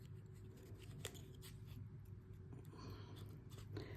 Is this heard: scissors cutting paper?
yes